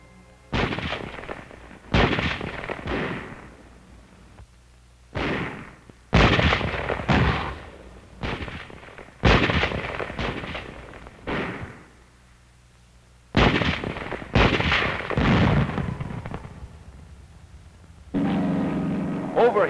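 Wartime bombing and strafing by P-40 and P-51 fighters over an airfield in 1944 WWII newsreel combat footage: repeated loud bursts of explosions and gunfire in clustered volleys separated by short quiet gaps.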